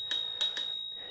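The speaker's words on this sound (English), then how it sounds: "so you got a bell right here." Three quick metallic dings from the handlebar bell of an OKAI EB50 electric bike, bright ringing tones that sustain briefly and fade, close and moderately loud with no talking.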